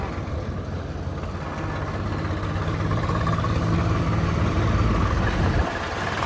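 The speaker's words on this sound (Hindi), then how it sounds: "ऐसे कोई ट्रैक्टर आ रहा है सामने से, इसमें भी गोबर खाद ही है" A farm tractor hauling a load of cow dung manure rumbles steadily on a village road, a low continuous diesel drone that builds slightly as it draws nearer before cutting off sharply.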